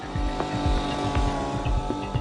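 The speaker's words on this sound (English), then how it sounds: "We're drilling these little rock cores, taking them out" A portable core drill bores into granite to pull out small rock cores, its motor droning loud and steady with a rhythmic pulsing under the whine, and no voices.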